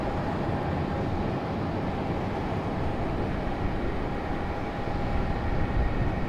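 Faint, even jet engine whine and low rumble of a Delta airliner taxiing out at Raleigh-Durham International Airport, a constant distant drone with a thin steady tone and no talk.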